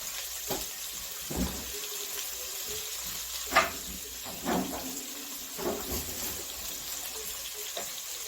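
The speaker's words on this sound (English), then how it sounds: "you add a little water" Water trickles and splashes into a metal can of chipotle in adobo in short bursts, with faint clinks and a steady background hiss.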